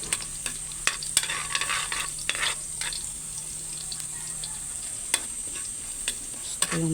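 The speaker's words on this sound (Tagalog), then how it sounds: "medyo toasted na ano, bawang para mabango talaga" Garlic fries in a pan with a constant sizzle and occasional sharp clinks and scrapes of stirring, close and steady without talking.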